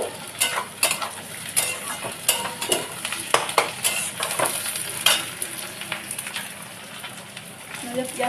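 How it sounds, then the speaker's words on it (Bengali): Onions fry and are stirred in a pan as tomato, ginger and garlic go in, with crackling sizzle and repeated sharp scraping and clinking strokes; some background voice is present. "পেঁয়াজটা ভাজা ভাজা হয়ে গেছে"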